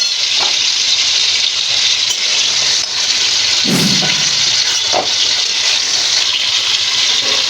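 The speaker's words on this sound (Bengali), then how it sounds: "এর মধ্যে আলুগুলো দিয়ে এবার ভাজবো।" Oil in a pan sizzles loudly and steadily while vegetables fry for a potol and prawn dish, with a few stirring scrapes and clunks breaking through the hiss.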